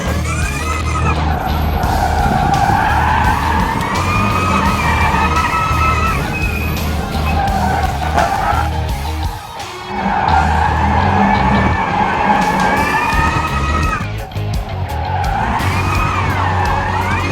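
Ford Performance's Mustang Mach-E 1400 prototype drift car skids with long wailing tire squeal and motor whine, loud and sustained, briefly easing twice before resuming.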